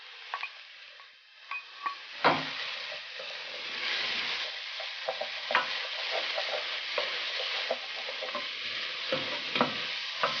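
Chopped garlic and onion fry in a pot, a steady close sizzle broken by scraping stirs and clacks of a spoon against the pot, with no talking.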